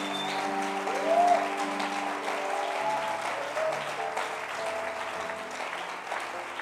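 A church congregation claps together in sustained, dense applause that swells slightly early on, with a few steady tones underneath.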